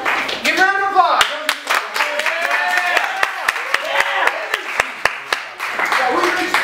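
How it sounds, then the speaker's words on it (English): Applause from the audience at an improv comedy show, with scattered sharp hand claps and an excited voice talking loudly over them throughout. "Give round of applause."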